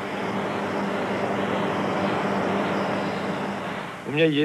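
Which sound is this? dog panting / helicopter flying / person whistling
helicopter flying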